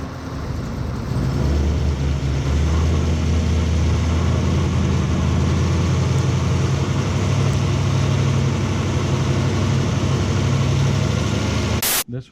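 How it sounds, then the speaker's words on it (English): A Chevrolet Camaro ZL1 engine runs steadily at about 1500 RPM with its A/C compressor working, a loud, close, continuous low rumble and hiss that holds without change before cutting off sharply at the end. "we're gonna run the car about 1500 RPM. It makes the compressor work the best"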